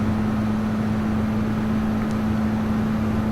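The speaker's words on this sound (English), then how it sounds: "Stig's also enjoying the sound of the engine as well." A 2015 Lancer engine in a racing game on the Route X track, geared for a 230 mph top speed, holds a steady, loud drone with a low hum as the car runs downhill, with no talking.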